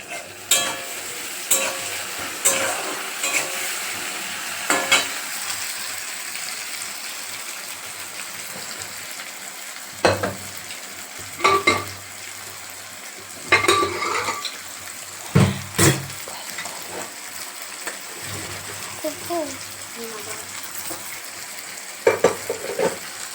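Onions fry with salt in a pan, a steady sizzle broken by scattered scrapes and clinks of a spoon against the pan at irregular intervals.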